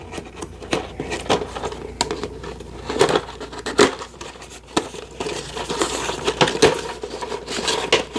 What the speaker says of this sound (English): We're going to use my trusty knife here. I'm going to cut it open from the bottom.